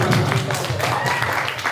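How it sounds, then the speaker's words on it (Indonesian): Applause from the audience for a speaker at a village youth organisation debate, a brief, dense burst of clapping close by with some voices mixed in. "Ya apresiasi tinggi lah untuk Pak P, kita tepuk tangan."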